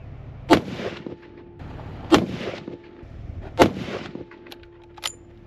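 Rifle gunshots while sighting in at a range: three loud, sharp reports a second and a half apart, each with a short ringing tail, then a quieter fourth crack near the end.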